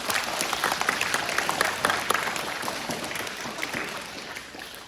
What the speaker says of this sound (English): Give yourself a big clap.